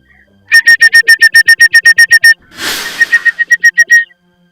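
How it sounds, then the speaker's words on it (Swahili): A person whistles with the mouth in a rapid run of short, sharp, evenly spaced bursts, loud and close, broken midway by a breathy rush of air before the quick whistles resume. "Kila siku nikija mpaka nipulize miluzi."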